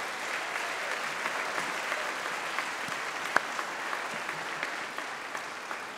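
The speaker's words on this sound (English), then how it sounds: "You could give them a round of applause." Clapping from the audience at a University of Manchester graduation ceremony, a sustained, moderately loud patter of many hands with a few sharper individual claps standing out.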